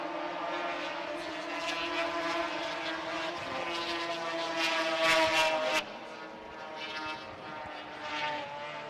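Racing snowmobiles in a Supermod 440 heat at Eagle River roar past, a loud sustained engine drone with rising and falling pitch that cuts off sharply partway, then continues more quietly.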